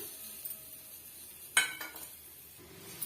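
Tomatoes and onions fry in a pan for a wedding-style eggplant gravy, a quiet, steady sizzle broken by one sharp clink of a spoon stirring against the pan midway.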